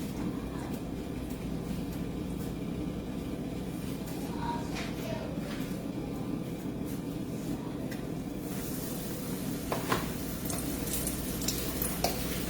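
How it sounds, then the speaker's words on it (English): Battered lobster fries in hot oil in a pan, giving a constant, dense sizzling hiss that runs unbroken and fairly loud throughout, with occasional sharper crackles. "It's not going to take that long to fry, so keep your eye on that pan, okay?"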